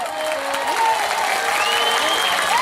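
Village youth at an outdoor gathering break into a crowd of applause, a continuous clapping wash that runs the whole short stretch, with a voice and some tonal sound sitting over the top.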